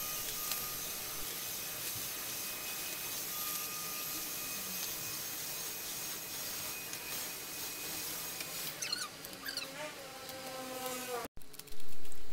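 A household vacuum cleaner drones steadily across a house floor, a constant airy whine. The sound shifts with some rattling near the end, then stops abruptly and is followed by a loud close bump.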